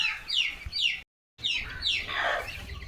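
Chickens cluck and chirp close by, several short calls in quick succession with a brief silent gap partway through, over light background rustling.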